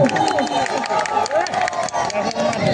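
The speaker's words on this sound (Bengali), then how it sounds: "দর্শক বন্ধু তাদের জন্য একবার জোরে করতালি দিয়ে উৎসাহিত করুন" Spectators at a crowded match field cheer and clap loudly for a good shot in a steady, boisterous wash of crowd noise, with a commentator speaking over it.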